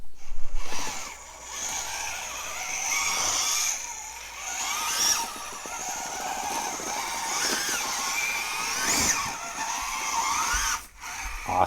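Axial SCX24 Gladiator RC crawler on 3S lipo power crawling over rocks outdoors, its small electric motor whining and revving in bursts with gear chatter, scrapes and knocks, close to the microphone.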